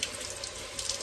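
A kitchen tap runs in a steady, close rush of water over a frozen tomato, an even splashing hiss with a few slight surges and no talking.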